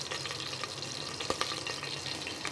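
Mustard seeds and a little fennel spluttering in hot oil while tempering crab rasam, a steady close crackling sizzle with scattered sharper pops.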